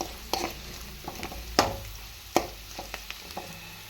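Poha upma seasoning with turmeric frying in a pan, a steady low sizzle broken by a few sharp spoon-and-pan clicks and scrapes as it is stirred; no talking.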